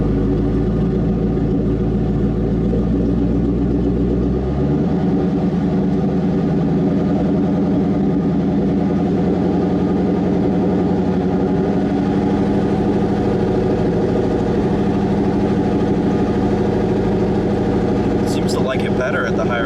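A Ford Mustang engine idles steadily at a raised idle, a loud continuous rumble that shifts slightly as the idle is brought up, with brief clatter near the end.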